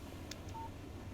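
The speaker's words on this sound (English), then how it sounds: "Text message from Barry." Short electronic text message alert from a phone in the video game Alan Wake: a couple of faint quick tones over a steady low background hum, no talking.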